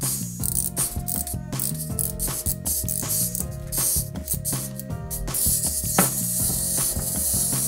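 A small toy mechanism whirs and ratchets steadily, with clicking gears and a buzzing motor, close and continuous with no speech.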